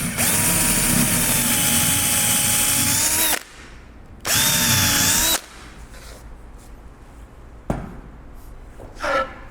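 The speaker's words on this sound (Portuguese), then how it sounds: "Então, olha, vamos furar." Electric drill boring a 10 mm hole, heard as two loud sustained whirring bursts of roughly three seconds and one second, separated and followed by near-silence with a few faint knocks and a short rustle.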